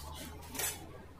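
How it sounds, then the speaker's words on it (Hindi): Brief rattling clatter as dry sabudana pearls are poured into a mixing bowl, a short close-up burst that swells and fades within about a second. "अब मैंने आधे साबूदाने मिक्सिंग बाउल में डाल लिए हैं"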